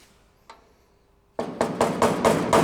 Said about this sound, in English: Now I think I'm going to use this wood chisel and get in there like that.